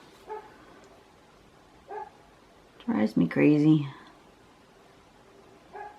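Neighbors' dogs in a residential setting give a few sharp, distant barks spaced seconds apart, and a person speaks briefly close by between them.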